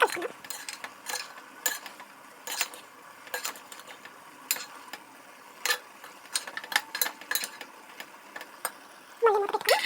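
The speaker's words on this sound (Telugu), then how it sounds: "దీన్ని మరోసారి కలుపుకుందాం" A spoon scrapes and clinks against a pan while masala brinjal curry is stirred, giving intermittent close taps and scrapes over quiet background, with a faint voice near the end.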